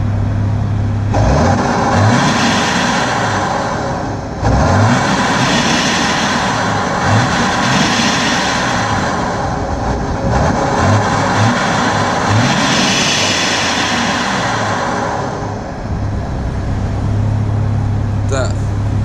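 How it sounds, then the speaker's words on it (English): A straight-piped BMW 530D E60 diesel sedan drives by with a loud, deep exhaust drone that rises and falls through several acceleration pulls, with a jet-like rushing roar. "we're gonna go for a drive, and also to listen to what this straight pipe 530D sounds like"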